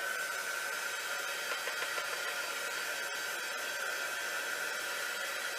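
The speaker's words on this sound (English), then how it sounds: "now I'm going to dry it with the heat tool" A heat tool drying gesso on an inkjet image transfer blows a steady, loud, airy whoosh with a constant whine, running unbroken throughout and close to the listener.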